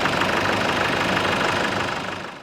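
A Nissan Patrol ZD30 diesel engine runs steadily with a loud, close, even clatter that fades slightly at the end.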